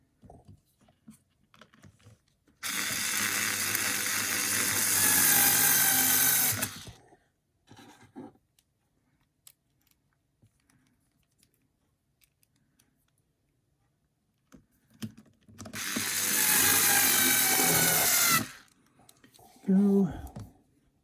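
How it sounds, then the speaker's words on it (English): Long screw driven into the lower arm of a Tamiya TT-02T Sand Shaker RC kit, two sustained loud buzzing stretches of a powered driver separated by quiet handling sounds and a little talk. "let me go ahead and just drive this"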